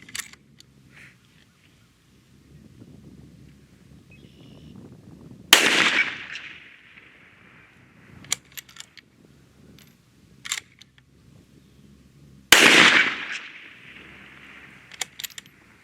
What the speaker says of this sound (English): I want to go ahead and shoot this next 2 and see where our group is